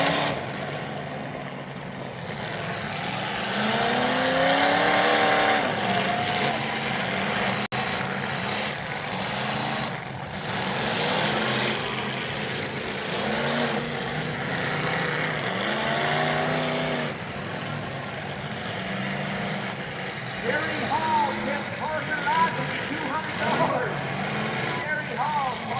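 Demolition derby cars in Heber, Utah grind and rev through a long stretch of engine roar, rising and falling with occasional dull impacts, while commentators talk continuously over the noise.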